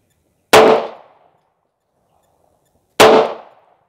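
Two loud, sharp pistol shots from a Pakistani-made Beretta, fired alone about two and a half seconds apart, each a close crack with a short decaying tail and silence between.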